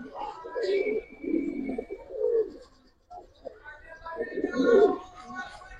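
Pigeons coo in low, rolling bursts from a cage of Punky and Cobra Silver breeding pigeons, the cooing rising and falling between short pauses while someone talks over it.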